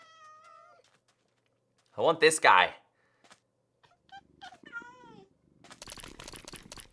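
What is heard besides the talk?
cat meowing in Minecraft video game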